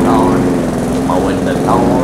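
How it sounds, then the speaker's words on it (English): Lawn mower engine in the video game A Good Husband, a steady droning hum running the whole time under ongoing talk. "Oh, let's go mowing into the sprinklers."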